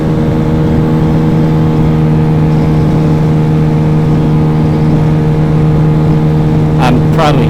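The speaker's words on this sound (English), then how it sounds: "I am running very high on the rev limiter, and I can hear it doing cut." A Yamaha Zuma 125 (RC158) scooter engine screams near its rev limiter during freeway riding, a loud, sustained high-revving drone with constant wind rush.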